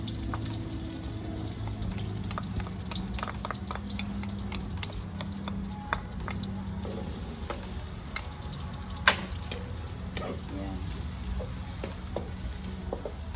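Garlic sizzles and fries in a pan for chicken adobo, a continuous close crackle with occasional stirring clicks and one sharper knock.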